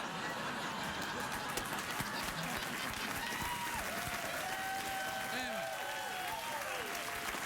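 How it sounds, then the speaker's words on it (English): A late-night television studio audience claps in a steady, moderately loud wash, with a voice talking over it. "A round of applause for me."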